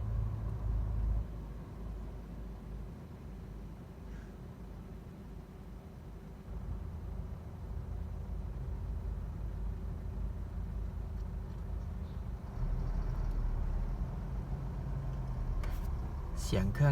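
Low, steady diesel rumble of a large Isuzu Deca truck engine idling nearby, with a faint constant hum; the idle level shifts slightly but stays even throughout.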